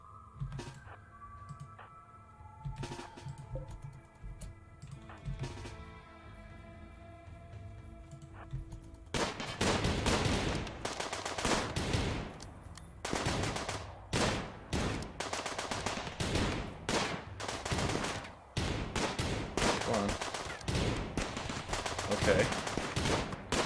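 Rapid gunfire striking a defensive turret in the colony game Rimworld: a quiet stretch with a short spoken word, then from about nine seconds a dense, loud run of overlapping shots and impacts that continues to the end.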